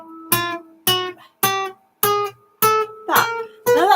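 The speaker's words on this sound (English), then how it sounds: "So if I play just one string, that's this string here, sounds like this." Single notes plucked one at a time on one guitar string, seven separate plucks in a slow, even rhythm, each ringing briefly and clearly on its own with no talking.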